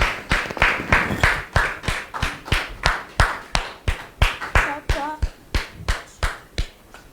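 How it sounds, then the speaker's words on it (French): A small studio audience claps to welcome a guest onto a show, the applause coming as a slow, sharply rhythmic series of loud unison claps, close and distinct, with brief voices in the middle. "Merci de recevoir M."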